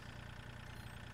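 A tractor engine idles steadily with a low, even rumble in Farming Simulator 2013, short and unbroken with no voices.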